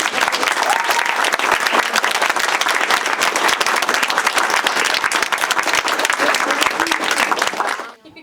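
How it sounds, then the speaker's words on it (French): A library audience applauds at a scientific journal launch, with dense, loud, sustained clapping that carries on for several seconds before stopping abruptly. "je vais demander aux gens vraiment de les applaudir comme il faut"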